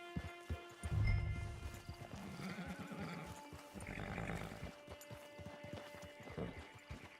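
Video game horse hooves from Red Dead Redemption 2 Online clop at a slow, even walk close by, with a horse's snort and soft ambient background, no one speaking.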